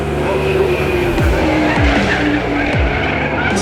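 A 1971 AMC Javelin race car squeals its tyres in a continuous loud skid, with repeated sharp downward pitch sweeps as the engine note shifts.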